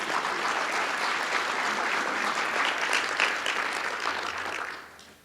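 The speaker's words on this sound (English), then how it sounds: "give yourselves a round of applause for believing us" Audience applause at a county executive's State of the County address, a dense steady clapping from a large crowd that holds strong for several seconds before tapering off at the end.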